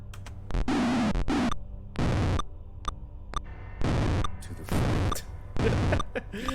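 Repeated fireball spell explosions in the retro fantasy game Death Knights of Krynn, five or six loud, broadband bursts about a second each, separated by short gaps, with a low background hum between blasts.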